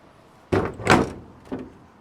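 A car door thuds shut with a solid, close impact, followed by a lighter secondary knock about a second later, from an old car still needing repair work.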